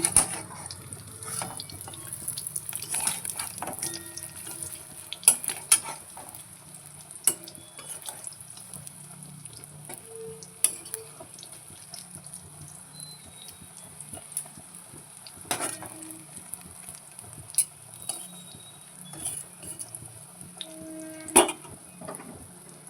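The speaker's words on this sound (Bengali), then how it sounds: "মাছের ডিমের বড়াগুলো করতে দিয়ে দিয়েছি" Fish roe fritters fry quietly in a pan at home, giving a thin, faint sizzle. Scattered utensil clinks and taps sound through a long, otherwise calm stretch with no talking.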